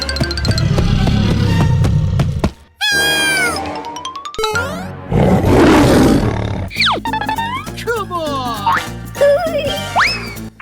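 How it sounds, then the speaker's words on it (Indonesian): A cartoon tiger roars loudly amid a busy animated soundtrack of music, boings and sound effects, with a roar-like noisy burst near the middle of the clip. "Ia berlari keluar pintu dan melihat Bibi sedang dikejar oleh seekor harimau"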